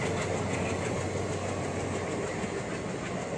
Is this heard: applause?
no